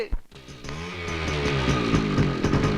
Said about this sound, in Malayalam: ബൈക്ക്.